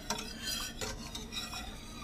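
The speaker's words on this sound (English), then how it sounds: "we're gonna start stirring a heck of a lot more" Lemon curd being stirred in a pot on the stove, a spoon scraping in quick repeated strokes against the pan, close and fairly quiet, with no talking.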